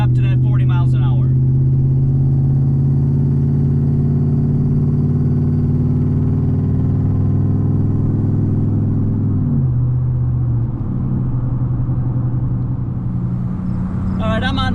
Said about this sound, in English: this is going to be us just accelerating normally back up to that 40 miles an hour.